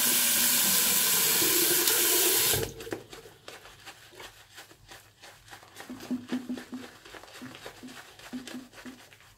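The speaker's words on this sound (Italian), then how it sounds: "Aggiungiamo un po' d'acqua" Water runs from a tap for wetting a shaving brush, a loud steady stream for a couple of seconds that then stops, followed by soft dripping and light taps.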